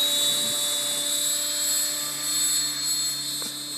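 A T-Rex 700E RC helicopter makes a quick flyby at night, its rotor and motor giving a steady, high-pitched whine and buzz that holds loud throughout with a slight swell, and no voices are heard.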